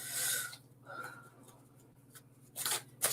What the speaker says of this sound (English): So I'm going to start shuffling some cards up.